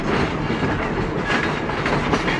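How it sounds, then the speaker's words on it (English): A long, heavy Ulster & Delaware Railroad train pulls out of Kingston station, a loud, steady rumble of rolling cars with faint clickety-clack from the wheels throughout. "the train starts to pull out of the Kingston station"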